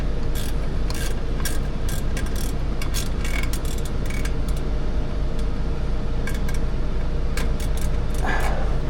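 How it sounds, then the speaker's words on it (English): A Snap-On ratchet wrench with a broken tooth slips while working on a Jeep Wrangler 3.6, giving a clicking, grinding rattle with irregular sharp clacks over a steady loud mechanical drone. "My ratchet wrench is slipping. It's got a broken tooth in it."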